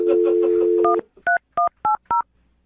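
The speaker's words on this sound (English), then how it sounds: "I'm going to dial the phone right now" Touch-tone dialing on a telephone: a steady dial tone cuts off, then four short, evenly spaced DTMF beeps follow, loud and close, with no speech over them.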